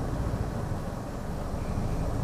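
A vehicle engine idles steadily on a cold day, running smoothly with a continuous low rumble and no surges in speed, alone and fairly close for the whole stretch.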